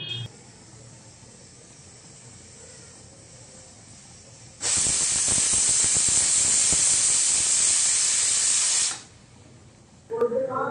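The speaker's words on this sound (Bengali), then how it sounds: "কুকারের ঢাকনাটা বন্ধ করে দিচ্ছি। গ্যাসের আঁচ হাইতেই রয়েছে, অপেক্ষা করব একটা সিটি পড়া অবধি।" A pressure cooker on a high gas flame sits under a quiet background, then bursts into a loud, steady hissing whistle of escaping steam for about four seconds before it cuts off. Brief kitchen sounds follow.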